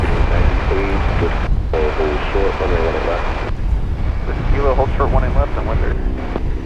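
An airliner departing DFW airport for Melbourne roars under a steady broad rumble with wind buffeting the microphone, while a voice talks over it in bursts.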